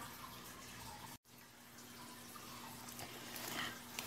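Water runs into a mixture of salt and fish for Lao sour fish, a quiet steady pouring trickle with a brief break early on, no talk.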